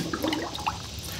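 Liquid lawn treatment poured into a measuring container for mixing, a short close trickle and splash of liquid lasting about a second with no talking.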